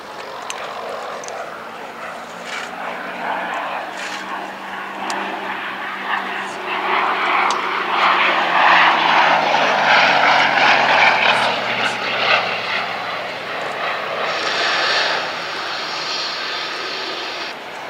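Gloster Gladiator biplane, a Battle of Britain-era fighter, flying at the Duxford Battle of Britain air show: a steady propeller-engine drone that swells and recedes as it passes, with crowd and outdoor ambience beneath.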